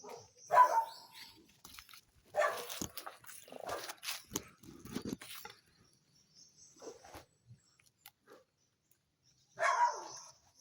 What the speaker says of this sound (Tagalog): May alaga silang aso mga lods.